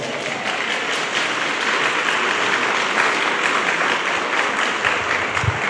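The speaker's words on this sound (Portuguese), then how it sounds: "Pode aplaudir essa graça." A church congregation bursts into applause during a Lent sermon, a loud, dense, sustained wash of clapping from many hands filling the space without a break.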